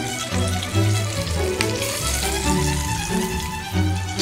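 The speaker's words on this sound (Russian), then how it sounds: "Мы жарим очень нежно, жарим очень осторожно" A whole chicken fries gently in a pan with a steady, even sizzle and crackle running throughout, close and fairly loud, with no voices over it.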